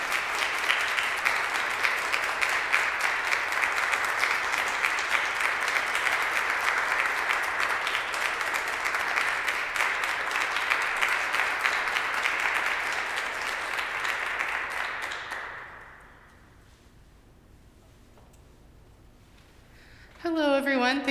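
A concert audience applauds warmly and steadily for the performers and a composer, a dense, sustained clapping that fades out after about fifteen seconds, followed by quiet and then a voice starting to speak.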